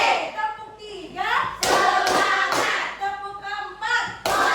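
A group of people clap together in counted rounds during a school teachers' coaching session, with sharp collective claps and thuds breaking through loud voices and chanting.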